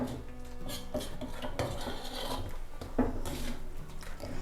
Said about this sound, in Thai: กะทิเริ่มเดือดนะคะ เราก็คนได้ค่ะ